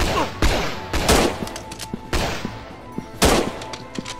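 Gunfire in the strategy game North & South, several sharp shots and short volleys cracking at irregular intervals over a quiet background.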